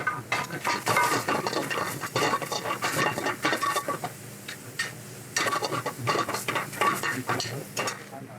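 Confit tomatoes go into a hot pan while oyster mushroom pasta is being made, followed by repeated metallic scraping and clattering from stirring, with a faint sizzle underneath.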